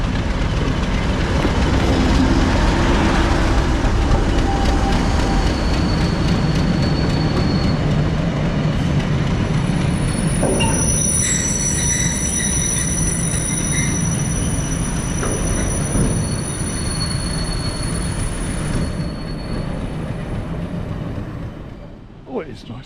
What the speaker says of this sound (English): That's going to be the biggest, heaviest locomotive I've ever seen on this railway.